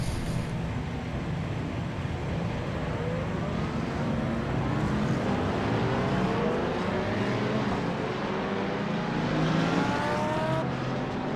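Race cars lapping VIR in the iRacing video game, a continuous loud engine drone with rising and falling pitch as several cars accelerate and shift, steady throughout without talk.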